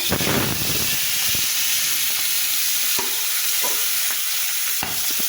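Boal fish pieces rubbed with salt, turmeric and chili powder frying in oil in a wok, a loud steady hissing sizzle with a few sharp stirring knocks, no talk.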